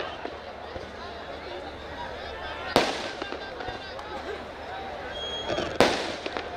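Two sharp firework bangs a few seconds apart cut through a busy crowd murmur with voices at a night wrestling match, close and loud against the constant background.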